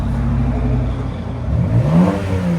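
A 2020 Chevy Blazer RS with a muffler-delete exhaust revs up loudly at close range, a deep steady idle rising into a strong surge of engine roar and settling back, with no talking.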